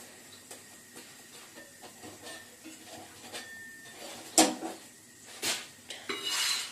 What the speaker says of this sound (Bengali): এই দেখো রুটি বানাচ্ছি।